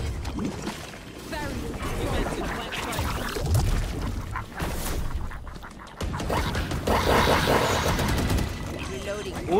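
Explosions and bursts of gunfire in a GTA roleplay shootout, with a grenade blast among dense, continuous combat noise under overlapping voices.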